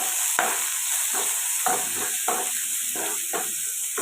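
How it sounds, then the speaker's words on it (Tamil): Shallots and spring onions sauté in a pan with a steady, close sizzle, broken by repeated scraping stirs of a spoon every half second or so; no voices. "சின்ன வெங்காயமும் வெங்காயத்தாழும் ரெண்டு ஒன்றா கலந்தது இதை போட்டு கொஞ்சம் வதைக்கும்"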